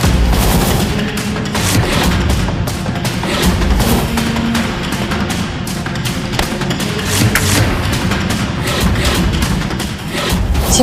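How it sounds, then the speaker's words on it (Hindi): Firecrackers bursting in a dense, continuous fusillade of loud cracks and booms, rapid and overlapping for several seconds. "ये पटाखे भी क्या धमाका करेंगे"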